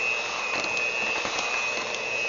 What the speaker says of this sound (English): I like to use a mixer.